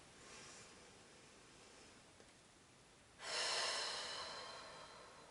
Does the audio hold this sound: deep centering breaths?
yes